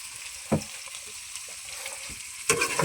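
Hot oil frying in a pan for a fish and chicken dish makes a faint, steady sizzle, broken by two brief stirring clatters near the start and end.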